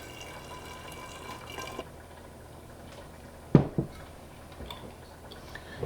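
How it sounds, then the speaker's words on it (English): Cool water running into a container in a home kitchen, a steady watery rush with a couple of louder clunks partway through, close by. "I'll top this off with cool water"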